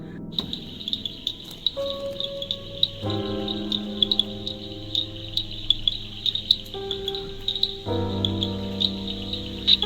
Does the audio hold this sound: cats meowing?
no